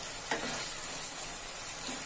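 Ingredients sautéing in a pan for egg chilli, a soft continuous sizzle with faint hiss and a couple of light stirring touches, quiet and close.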